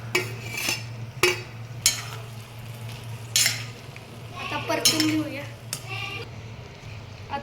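Boiled potatoes are sautéed in a masala, with a spoon scraping and knocking against the pan in irregular strokes over a low sizzle. A person talks throughout.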